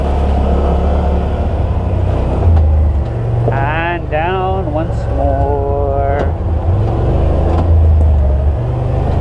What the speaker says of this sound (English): Put the Yamaha engine braking to the work.